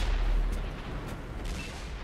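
A tank cannon in World of Tanks on PS4 fires with a deep booming blast that rumbles and decays over a couple of seconds, loud and close.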